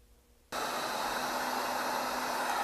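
A heat gun blowing hot air over heat shrink tubing on a soldered wire, part of a box mod build with an OKL-T20 chip; a steady, close, hissing airflow switches on abruptly and runs evenly without talk.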